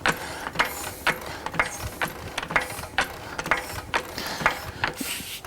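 Center-lock wheel nut on a Porsche GT3 RS being worked loose with a ratchet, giving a steady run of sharp, evenly spaced mechanical clicks close by, with no talking.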